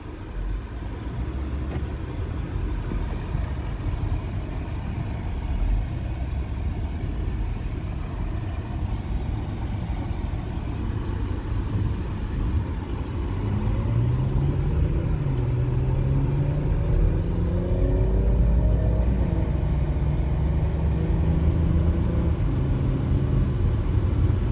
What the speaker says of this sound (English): As you can hear, it's not really loud, it drives really nice, it has good acceleration.